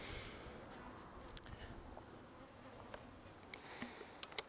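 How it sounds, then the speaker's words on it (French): A small fly buzzes faintly in a quiet setting, its thin drone drifting in and out, with a few brief sharper ticks scattered over the soft background. "C'était une mouche, hein, c'était pas une guêpe."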